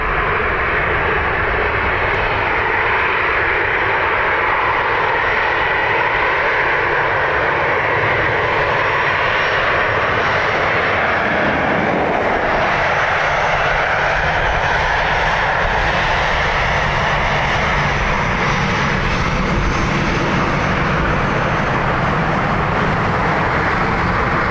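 A Ryanair jet airliner on runway 10 right at Dublin Airport produces a loud, steady engine roar that fills the whole stretch, swelling slightly midway with a broad rushing tone and no voices.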